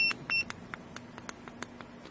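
A hidden camera detector pen beeps near a wireless router, two brief high tones at first, then a quick, irregular series of short faint clicks and beeps over a low steady hum.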